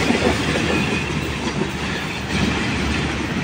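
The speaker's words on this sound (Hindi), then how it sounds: "आज का सबसे तेज़ रफ्तार स्पीड एक्शन मलिर कैंट पर 47 अप रहमान बाबा एक्सप्रेस का।" The 47 Up Rehman Baba Express, a Karachi–Peshawar passenger train, thunders through Malir Cantt station at speed, a loud, steady broadband roar of wheels and coaches with faint clickety-clack and no voices.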